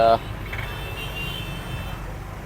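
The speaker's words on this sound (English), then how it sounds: "you hear the noise, and we've got tuk-tuk in front of us." Steady, busy street traffic with tuk-tuks and motorbikes in Jakarta's Chinatown rumbles throughout, with engines droning nearby and a brief horn-like tone at the very start.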